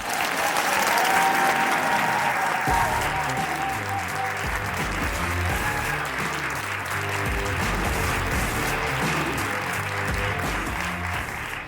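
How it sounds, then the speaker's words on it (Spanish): Loud, sustained applause fills a live podcast recording before an audience, a dense wall of clapping that holds steady from start to finish while murmured voices and music sit underneath. "Sergio, no te esperabas este aplauso, ¿eh?"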